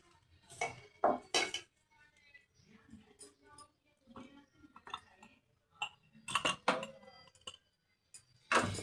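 Jaggery is mashed into sesame seeds for til laddoo in a metal vessel, giving irregular bursts of utensil clinks and scraping separated by quieter pauses, with faint speech in between.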